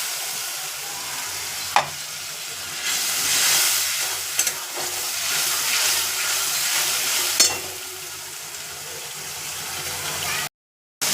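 Water poured onto a hot, well-fried spice masala sends up a loud, continuous hiss of steam and sizzle, close by, with a few sharp clinks of a utensil against the pan before it cuts off abruptly near the end.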